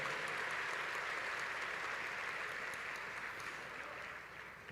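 Congregation at a state adolescents' church congress applauding, a broad sustained wash of clapping filling the hall, steady and fairly distant, easing off slightly toward the end.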